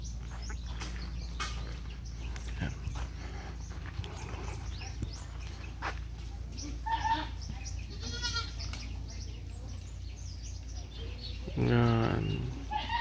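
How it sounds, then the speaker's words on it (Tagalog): Goats bleat at feeding time on a farm, with several loud close calls scattered through a continuous background of rustling and murmuring, and a stronger burst of bleating near the end. "Ang pakain sa kambing."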